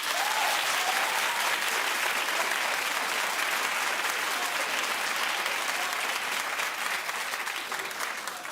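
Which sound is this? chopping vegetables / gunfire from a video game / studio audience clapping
studio audience clapping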